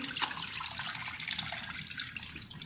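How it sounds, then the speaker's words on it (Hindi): Water drains off while homemade desi ghee is being made, a steady close pouring and trickling stream of liquid with no talking. "अब इसका सारा पानी हम ड्रेन कर लेंगे।"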